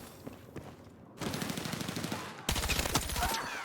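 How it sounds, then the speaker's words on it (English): Full-auto gunfire in a Battlefield 6 match, loud rapid bursts of shots in two sustained volleys, the second louder and nearer, with scattered distant shots before. "We're getting shot at from everywhere"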